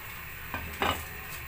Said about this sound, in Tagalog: Tapos saka po tayo mag-umpisa mag-prito.